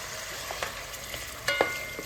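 Chopped onions frying in a pot for tuo zaafi stew: a steady soft sizzle, with a few light scrapes and knocks as the onions are stirred. The sound is close and fairly quiet, and no one speaks.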